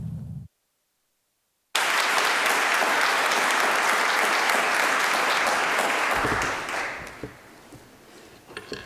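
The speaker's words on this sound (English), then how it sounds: "do one more round of applause for all of our outstanding Innovation Award winners" Loud audience applause for Innovation Award winners at the Mitacs Innovation Awards ceremony, bursting in after a short silence, holding as dense even clapping for several seconds, then thinning to scattered claps.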